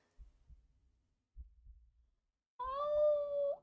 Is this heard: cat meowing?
yes